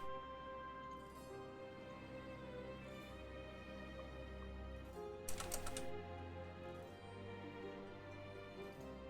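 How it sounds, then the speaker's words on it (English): A loud computer keyboard clatters with continuous quick keystrokes at a gaming player's desk during a Shadowverse tournament wait, with one brief brighter burst of clicks partway through. "I was typing to like different chats while we wait for the round, and my keyboard's loud"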